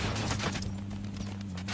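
Rapid gunfire from the Warzone video game rattles in a dense continuous burst, loud and close, with a steady low hum underneath.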